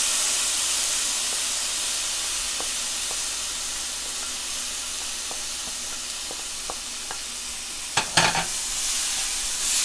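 Beans and carrots sauté with softened tomato in a pan for vegetable pasta, giving a loud, steady sizzling hiss with faint scattered stirring taps and a brief clatter of stirring near the end. No voices.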